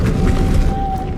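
Depulso force spell cast in the video game Hogwarts Legacy, a short dense whoosh with a low booming impact over steady game ambience and a thin sustained tone.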